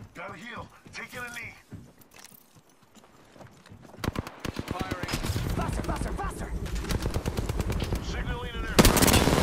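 Rapid automatic gunfire in a multiplayer shooter video game, bursts of loud close shots that build into sustained firing, with a player talking intermittently.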